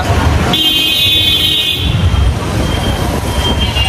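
Busy road traffic in Barisal, Bangladesh, a loud steady roar of passing vehicles close by, with a sustained horn blaring for about a second early on and no speech.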